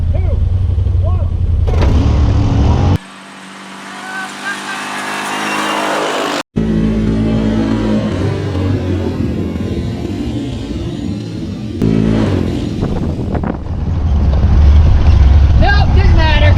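Yamaha side-by-sides, a Rhino, a Raging Rhino and a Wolverine X4, launch in a drag race, their engines roaring loudly as they accelerate off the line, fading and returning in bursts with people talking over the noise.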